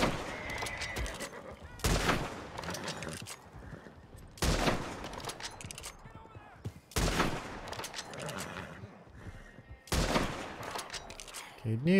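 Bursts of gunfire from a Red Dead Redemption 2 roleplay server zombie fight crack out in four or five loud volleys a few seconds apart, with faint game ambience between them.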